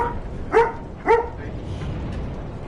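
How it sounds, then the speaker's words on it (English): Two short, sharp barks from a dog in the video game Dark Souls 3, spaced about half a second apart over a low background hum, with no one talking. "Oh no, there's a dog, ladies and gentlemen. And the dog wants to eat."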